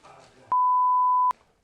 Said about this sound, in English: We'll beep it out.